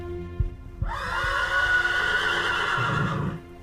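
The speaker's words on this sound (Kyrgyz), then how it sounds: "Аллах жолунда жихадка чаптырган аттардын кишенөөсү" A horse gives a loud, close whinny lasting a few seconds, preceded by a couple of dull thumps.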